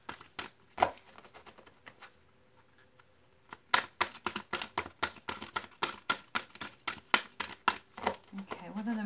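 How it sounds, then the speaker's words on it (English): Tarot cards being shuffled by hand, a rapid run of crisp riffling snaps and flicks up close that grows denser toward the end, with a brief quiet stretch of faint talk before it starts. "Actually, I'm just trying to shuffle."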